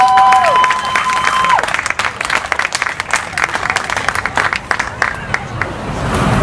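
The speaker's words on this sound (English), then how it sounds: "Let's give a huge round of applause for Mippy Valentine." A festival crowd at the Vegan Festival Adelaide 2018 claps and cheers for Mippy Valentine in dense, close applause, with a brief electronic tone sweeping at the start and crowd murmur underneath.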